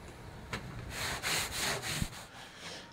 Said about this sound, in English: give those a quick wipe with some acetone